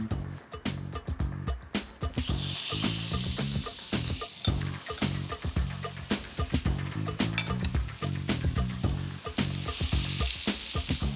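Marinated chicken sizzles loudly on a hot grill pan, a steady frying crackle with frequent sharp pops and spits throughout, close and continuous with no talking.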